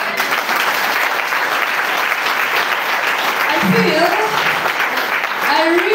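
A congregation at a shrine pilgrimage service claps steadily and loudly, a sustained crowd of hands with scattered voices and a brief spoken phrase rising over the clapping partway through.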